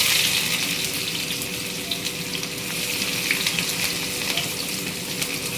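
Onions sizzle steadily in hot oil with mustard and fenugreek seeds, a loud continuous hiss with crackle that runs throughout and is never broken.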